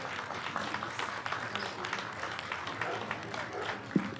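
Applause from an outdoor crowd at a public art unveiling in Jamaica Plain, a steady, moderately loud patter of clapping throughout, with faint voices and a brief sharp knock near the end.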